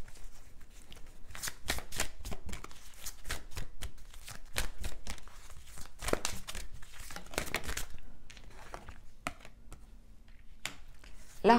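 Oracle cards being shuffled by hand for a weekly card reading, a steady run of close papery riffles and slides, with quieter rustling toward the end and no speech over it.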